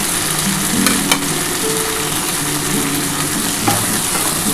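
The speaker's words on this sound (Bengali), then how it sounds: "এটা বরবটির সাথে কিন্তু ভালো করে পেঁয়াজটা ভাজতে হবে" Onion frying in a pan with tender yardlong beans and green chilli, a loud, close, continuous sizzle with a few sharp clinks of stirring, and no talking.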